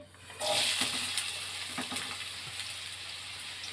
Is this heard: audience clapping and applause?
no